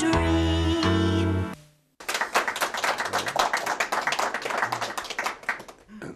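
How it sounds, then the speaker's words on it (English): After a sustained musical tone cuts off, a small audience at a television show taping breaks into steady, close hand clapping that continues for several seconds. "Thank you, everybody, for applauding."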